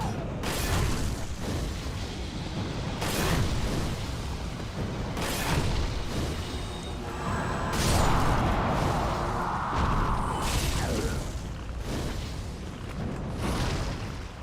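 Fireball spell explosions in Dark Souls III, heavy booming blasts and rumbling bursts recurring across a dense, loud game soundscape with mechanical creaks and a sustained roar midway.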